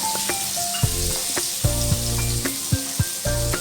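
Chopped onions hit hot oil with cumin seeds in a pan for jeera aloo and fry with a loud, steady sizzle, broken by several dull stirring knocks and scrapes from a spoon.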